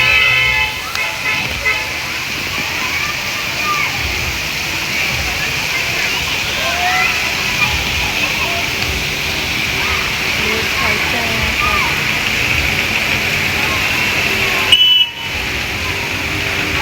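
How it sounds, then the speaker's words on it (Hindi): Heavy rain pours down in Karachi in a dense, continuous hiss, with water splashing and a brief car horn sounding in the distance. "और ये देखिए बारिश बाहर कितनी तेज़ हो रही है"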